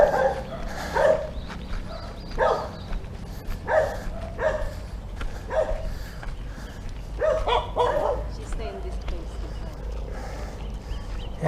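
A dog barks repeatedly outdoors in a rural town, the barks loud and close in uneven bursts while people talk nearby.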